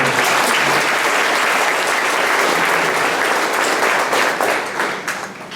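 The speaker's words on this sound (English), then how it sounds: "A round of applause" Audience applause at a track and field awards event, a dense, sustained wash of many hands clapping at close range that holds steady and then begins to thin out near the end.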